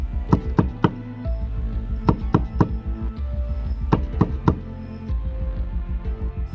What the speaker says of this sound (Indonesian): Tiba-tiba terdengar suara ketukan pintu berkali-kali.